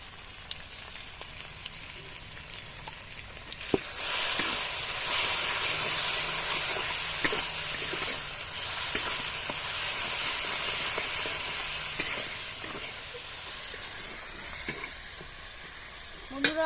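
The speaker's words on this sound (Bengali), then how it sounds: "আমার মশলাটা ভালো করে ভেজে নেওয়া হয়ে গেছে।" Spices with salt and turmeric frying in a pan for Bengali fish curry, a steady loud sizzle that swells after a few seconds and holds, with occasional stirring clinks and scrapes and no talking.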